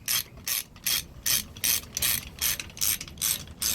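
A hand ratchet clicks through about ten evenly spaced strokes while snugging the center bolts on an engine being rebuilt, each burst a close, crisp pawl rattle with short pauses between.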